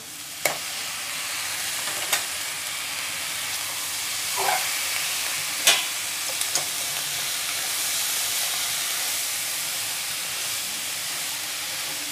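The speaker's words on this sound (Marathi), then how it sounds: "ही सगळी भाजी थोडी परतून घेऊया।" Vegetables for quinoa biryani sauté in a hot pan with a loud, steady hiss and sizzle, marked by occasional sharp clinks of a spoon stirring; no voices.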